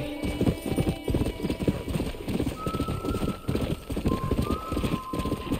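Rapid, rhythmic clip-clop of a horse's hooves at a steady gallop in Red Dead Redemption, close and continuous, with faint tonal game sounds over it.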